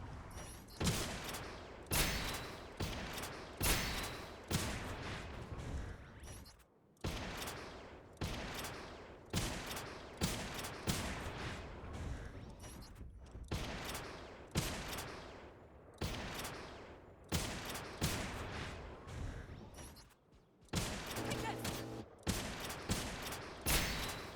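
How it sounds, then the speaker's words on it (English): Rapid gunfire at practice bots in the video game Gundam Evolution, with repeated bursts of sharp shots in a steady rhythm. The bursts are loud and close and keep going with only brief gaps, and no one speaks. "So I'm just going to be shooting for like a minute or two."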